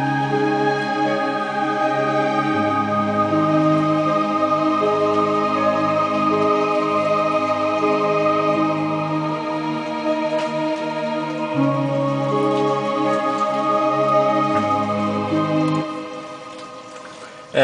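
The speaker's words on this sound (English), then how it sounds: "It's just choir and a harp." Church-themed game music played by choir and harp: sustained, slowly shifting choral chords with soft harp tones, a steady and even wash that fades near the end.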